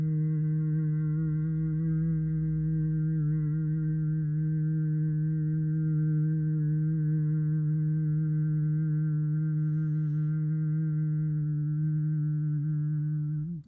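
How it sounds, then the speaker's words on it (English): A person hums one long, steady, unbroken tone for about thirteen seconds, loud and close, as a breathing exercise for adult swimmers, ending abruptly. "and then hum."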